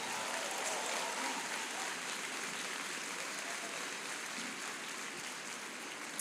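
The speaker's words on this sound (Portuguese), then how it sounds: "Aplauda Jesus bem forte" Steady clapping from a church conference audience praising Jesus, a soft, even wash of applause heard from a distance with no speech over it.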